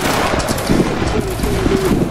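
Musket volley fire in a video game battle, a dense crackling fusillade of many shots running throughout, loud and close, with faint shouting voices mixed in.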